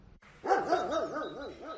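A dog barks and whimpers in a run of bright, wavering yelps, close and fairly loud, with no talk over it; the dog was caught up in the war in Ukraine.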